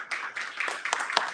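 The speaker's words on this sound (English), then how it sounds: "So if we can all give her a big round of applause." Audience applause for a guest at a Palestinian folklore event, a short burst of many hands clapping at moderate level with a few sharper individual claps standing out.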